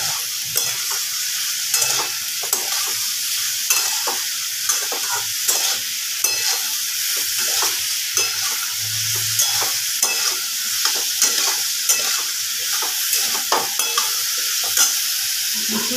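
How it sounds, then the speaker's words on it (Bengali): Spices for a shop-style kachori potato curry are stirred in a frying pan, steady sizzling overlaid by rhythmic spoon scrapes that repeat roughly every half second, close and clear with no talking. "এবার ভালো করে নাড়াচাড়া করে নেব।"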